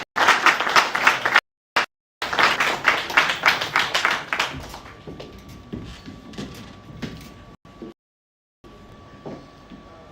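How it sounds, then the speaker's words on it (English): Audience applause at a university matriculation ceremony, bursts of clapping broken by abrupt gaps, fading to lighter scattered claps toward the end. "A round of applause for him."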